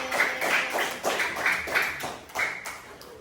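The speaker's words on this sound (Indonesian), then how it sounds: "tepuk tangan untuk kelompok Ali bin Abi Thalib" A class of schoolchildren claps for a group of classmates, the claps coming in short bunched bursts with a loose rhythm, close and fairly loud.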